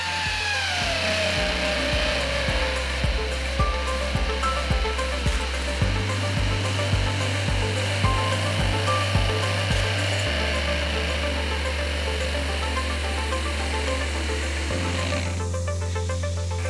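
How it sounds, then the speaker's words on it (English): A Festool BHC cordless drill runs in a steady whine that holds for long stretches, with its pitch stepping between speeds and small repeated knocks as it bites, loud and close with no voices. "we've got 2 different types of cordless drills here"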